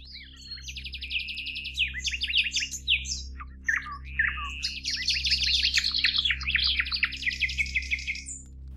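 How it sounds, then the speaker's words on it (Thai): Several small birds chirp and trill continuously at dusk in rapid, overlapping bursts, fairly close, over a steady low hum. "เสียงนกน้อยนานาพันธุ์เริ่มโผบินกลับเข้าสู่รัง"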